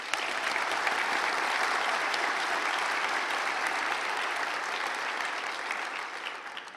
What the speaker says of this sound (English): If we could have another round of applause for everyone joining us today.